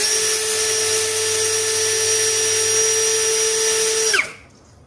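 A Zhipu 16V brushless cordless drill runs at a steady whine with strong, even tones for about four seconds, then switches off and winds down quickly to near silence.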